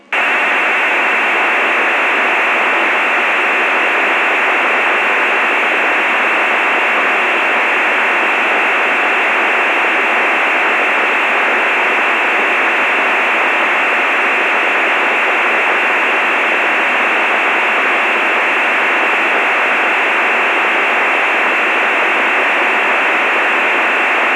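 An EasyPal digital image transmission comes through a radio repeater as a loud, unbroken buzzing hiss that holds steady and never changes from start to finish, with no voices over it.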